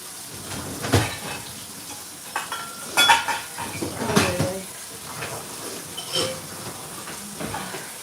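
Dishes being loaded into a home dishwasher, with scattered clinks and clatters of plates and cutlery in uneven bursts, fairly close, over a faint background hiss.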